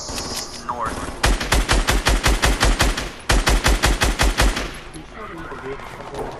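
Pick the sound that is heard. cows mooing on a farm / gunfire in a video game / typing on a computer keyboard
gunfire in a video game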